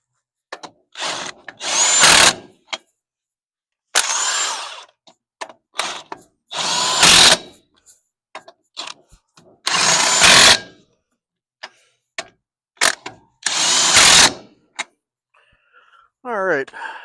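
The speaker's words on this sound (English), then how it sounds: "let's go ahead and run it down with the impact." Impact wrench running down the wheel lug nuts on an Austin Healey, loud close-up bursts of whirring and hammering repeated about six times with short pauses, a brief ratcheting rattle at the end.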